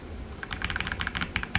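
An Ajazz AK820 Pro keyboard being typed on at close range, a quick irregular run of crisp clicky keystrokes at a quiet level, with no voices.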